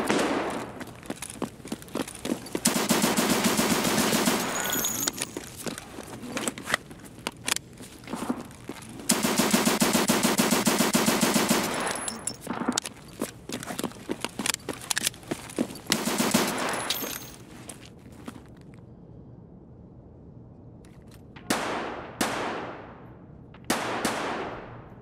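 Bursts of automatic gunfire in the video game Escape from Tarkov, heavy sustained volleys separated by shorter rattling shots and a few sharp single cracks near the end, loud and close with no talk.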